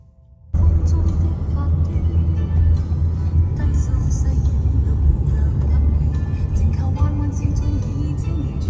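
Steady, loud low rumble of road and engine noise inside a car on a two-hour drive, constant throughout with faint higher hiss and no clear talking.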